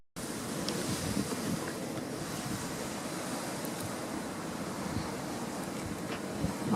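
Storm waves surge and roll onto Frontignan beach under a steady roar of surf, with heavy wind buffeting the microphone throughout, loud and continuous with no distinct breaks.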